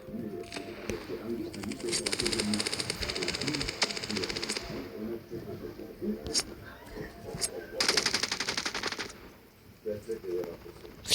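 Gunfire in the mobile shooter game Standoff 2 comes as rapid rattling bursts of automatic fire. Two long volleys are broken by a few single shots, and a player talks throughout.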